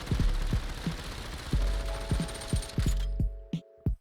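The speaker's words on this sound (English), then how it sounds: "As you can see, the bullet spread and recoil of the P90 is pretty huge, both horizontally and vertically." A P90 submachine gun fired in the VR game Population ONE, heard as a series of sharp, evenly spaced low thumping shots, loud and close, ending with a few final isolated pops after a mechanical hum.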